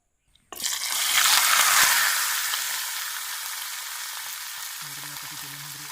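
Smoked dried fish dropped into hot oil for a Sri Lankan fry: brief quiet, then a sudden loud sizzle that swells and settles into a steady crackling hiss, close by, without speech.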